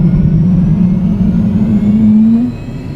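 Jet turbine fitted to a 2010 Chevrolet spooling up, a loud steady whine rising in pitch over about two and a half seconds before settling and dropping slightly, close and continuous with a heavy rumbling roar beneath, no talking.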